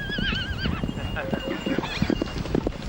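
A horse whinnies loudly and its hooves clip-clop in an outdoor scene, with a busy mix of rustling and other background activity throughout.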